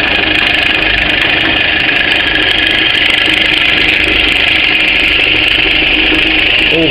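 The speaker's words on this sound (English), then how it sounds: "Now, when you use the drilling machine," A bench drilling machine, started with a green button, runs with a steady loud mechanical whir while its drill is lowered through a workpiece in a school workshop, with no pauses for 7 seconds.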